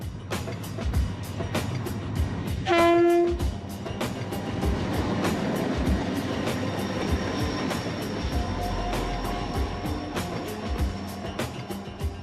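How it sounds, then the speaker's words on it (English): A train on the Trans-Iranian Railway rumbles along steadily northward from Khorramshahr with rhythmic clacking of wheels over the rails, and a short horn blast sounds early on. "Our train leaves Khorramshahr and heads north."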